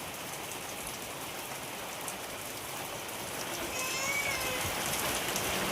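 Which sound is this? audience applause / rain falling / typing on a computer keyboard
rain falling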